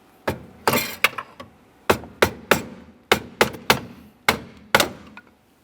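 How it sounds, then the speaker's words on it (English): A hammer and pry bar knock on the steering shaft of a 2001-2005 Ford Explorer, giving about a dozen sharp metallic bangs in uneven bursts, close and loud, ending with a few fading rings. "I'll give it a couple loving bonks with a pry bar and a hammer."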